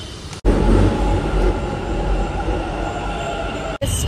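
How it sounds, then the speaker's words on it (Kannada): Bangalore metro train: a loud, steady rumble of a carriage in motion with continuous rail noise and a slight squeal, cut by brief breaks at the start and end, with no talk. "So let's board a metro."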